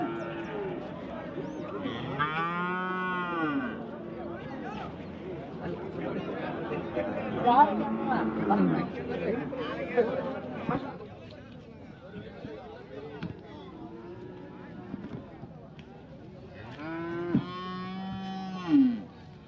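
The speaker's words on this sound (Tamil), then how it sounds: "எல்லாம் பால் மாடு நிறைய வந்திருக்கு." Holstein Friesian dairy cows and heifers moo repeatedly at the Morepalayam cattle market in Namakkal, with loud drawn-out calls near the start and again near the end, over steady crowd chatter and people talking.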